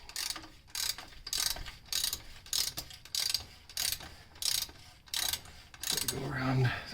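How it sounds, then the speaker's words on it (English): A ratchet clicks in repeated quick bursts, close by, while loosening a fastener during an oil change on a 2014 Toyota Corolla, with brief pauses between strokes. "probably going to use a ratchet now because my hands are greasy"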